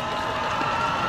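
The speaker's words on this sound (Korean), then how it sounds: "시청 건물에 우크라이나 국기가 개양되자 환호성이 터져나옵니다." A crowd in a city square in Kherson, Ukraine, cheers as the Ukrainian flag is raised over the city hall building, a brief, steady wash of distant voices and applause.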